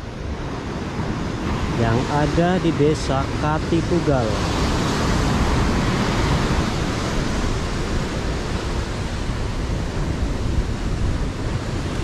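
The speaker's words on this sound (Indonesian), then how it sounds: "Ombak di sini juga cukup besar teman-teman" Fairly big surf rolls onto the beach at Pantai Tawang in Katipugal village, Pacitan, as a steady, close roar mixed with wind buffeting the microphone, while a voice speaks briefly early on.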